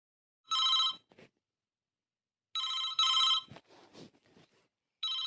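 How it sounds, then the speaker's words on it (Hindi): A telephone rings in repeated electronic bursts with short pauses between them, clear and fairly close, with no talking. "फ़ोन उठाओ माँ जी, फ़ोन उठाओ।"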